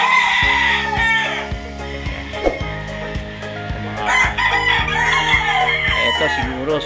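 A talisayan rooster crowing at a game farm in Tanay, Rizal, with loud, near, drawn-out calls among other fowl, surrounded by scattered clucks and distant farm sounds, with someone speaking briefly nearby.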